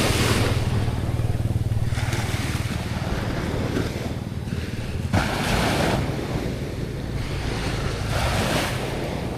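Calm sea waves wash and break continuously against a Mindanao shore, with a strong rush of wind buffeting the microphone throughout.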